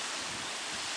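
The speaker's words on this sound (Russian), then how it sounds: "Вот оно, Жигулевское море." Waves on the Zhiguli Sea, the reservoir near Tolyatti, make a continuous hissing wash of surf mixed with wind noise, steady and fairly loud with no voices.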